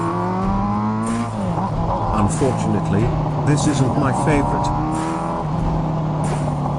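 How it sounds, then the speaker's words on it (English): A four-cylinder motorcycle engine, the kind fitted to a cafe racer, runs with a smooth, continuous drone and rises in pitch as it revs, while someone talks over it. "Finally, the four-cylinder engine."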